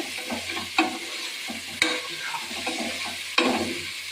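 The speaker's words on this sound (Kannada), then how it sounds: "ಸ್ವಲ್ಪ ಉಪ್ಪು ಹಾಕಿ ಇವಾಗ ಮಿಕ್ಸ್ ಮಾಡ್ತಿದ್ದೀನಿ." Mutton pieces being stirred and mixed with salt and turmeric in a hot pan for Maratha-style mutton chops, with a steady low sizzle and a few sharp scraping clatters of the spoon against the pan, close up and without talk.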